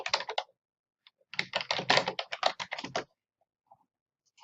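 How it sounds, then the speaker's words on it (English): A username and password typed on a computer keyboard: a brief flurry of clicks, a pause, then a longer rapid run of close, crisp keystrokes ending in silence with one or two stray taps. "so I'm going to type them out."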